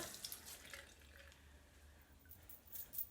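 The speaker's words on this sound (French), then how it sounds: "Donc, je rince." Face being rinsed with water at a sink, a faint running trickle with soft splashes and patters of water, quiet and close, clustering in brief bursts near the start and end.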